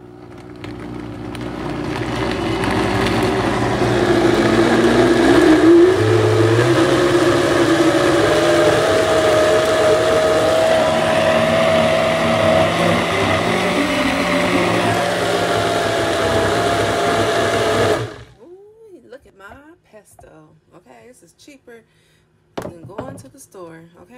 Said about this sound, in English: We'll continue to blend.